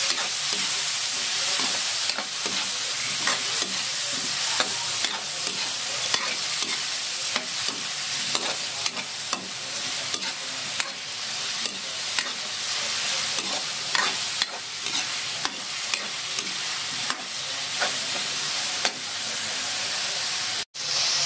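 Shrimp frying and being stirred in a pan for odong with sayote, a steady loud sizzle with repeated scraping stirs throughout and no talk.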